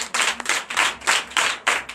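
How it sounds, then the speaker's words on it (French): A church congregation claps loudly and steadily during a Sunday service in Comè, Benin, with dense hand claps arriving in uneven surging waves and no voices over them. "Donc je vous demande d'applaudir très fort."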